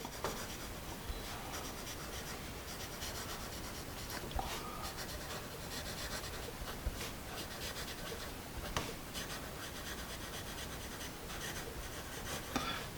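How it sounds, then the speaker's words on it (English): A vintage Sparco Premium pencil writes on paper close up, a continuous soft scratching and rubbing with small ticks and taps as strokes start and stop, steady throughout with no talking. "You can probably hear a little bit of the feedback from the pencil."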